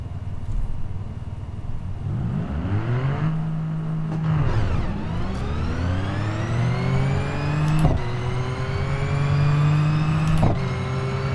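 A car engine in BeamNG.drive, driven with a Logitech G920 wheel and pedals, revs up repeatedly through steeper gears, its whine climbing in pitch and dropping sharply at each shift.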